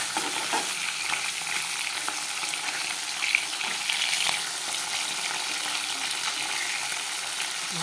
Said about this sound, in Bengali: ভালো করে কড়কড়া করে ভাজবো।